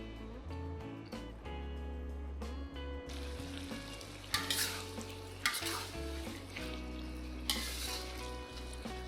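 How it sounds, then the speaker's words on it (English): Beef and bitter gourd cook in a pan of sauce brought to a boil, giving a steady close sizzle and bubbling with occasional clinks and scrapes of a utensil, loud and continuous without any voices. "Bring the sauce to a boil and keep it boiling till you reduce the liquid in the pan by about half."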